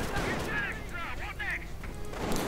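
Dense, continuous gunfire crackles through a WWII strategy game battle as German Pioneers in a Schwimmwagen fire down a road at American troops, mixed with booming impacts. A commentator's voice talks over the steady barrage throughout.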